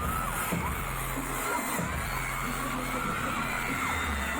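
Fans scream and cheer at a concert at a Pepsi Pulse event, producing a continuous loud roar of crowd voices with high whoops and yells layered over a low rumbling beat.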